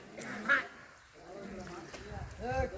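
Ducks quack several times in short, nasal bursts on a family fish pond while fishermen cast a net nearby, with quiet voices and soft background sound between the calls.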